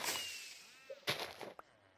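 A creeper in Minecraft blows up in a short hissing burst, followed by a few faint scattered clicks and pops, quiet and brief with no voice over it.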